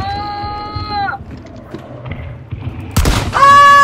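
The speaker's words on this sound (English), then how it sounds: "Keep shotgunning, it's good." Shotgun blasts in the first-person game Hunt: Showdown: one loud booming report near the end, with ringing tonal game effects before and after and scattered background action.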